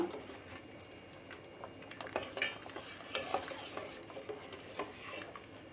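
A spoon stirs coconut milk as it thickens and reduces in a pot for ada pradhaman payasam, with soft, faint scraping and light clinks against a low bubbling background.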